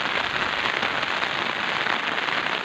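Heavy rain falls steadily on a village, a dense, even hiss of drops striking surfaces close by with no talk over it.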